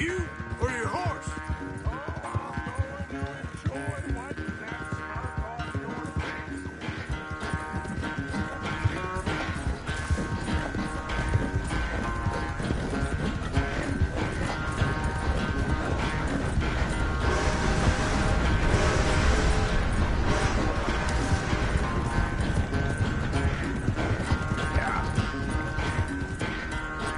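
Horse galloping in a PS4 video game, a long continuous run of rapid hoofbeats mixed with dense game sound effects and occasional voices.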